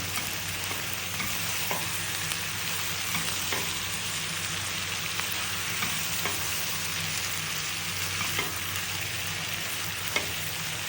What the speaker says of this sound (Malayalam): സവാള നന്നായിട്ട് വഴറ്റിയെടുക്കണം